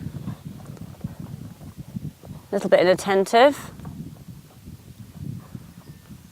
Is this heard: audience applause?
no